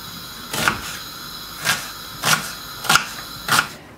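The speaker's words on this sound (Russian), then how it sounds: "Нарезаем лучок." A knife chops an onion on a cutting board in five evenly spaced, crisp strokes, close by with a quiet background.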